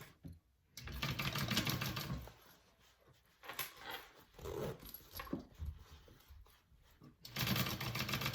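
A sewing machine runs a seam on a Deyjon bucket bag in several short, uneven bursts of rattling stitching with pauses and handling noises between, close and fairly quiet.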